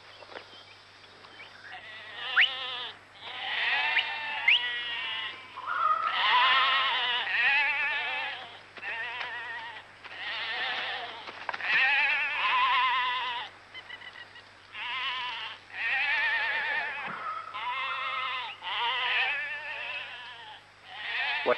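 Many sheep bleat repeatedly, overlapping wavering cries close by, with a steady low hum underneath.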